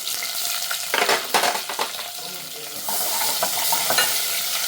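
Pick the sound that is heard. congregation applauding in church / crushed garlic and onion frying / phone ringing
crushed garlic and onion frying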